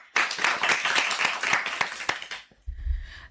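Children clapping together in an All India Radio studio to open a children's programme, a short burst of lively applause that stops abruptly, followed by a low hum.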